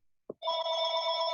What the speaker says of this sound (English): Oh, whose phone's ringing?